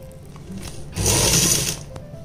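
A sewing machine topstitching the neckline of a suit runs in one short burst of about a second of fast whirring stitching, close and clear, between quieter moments of faint handling.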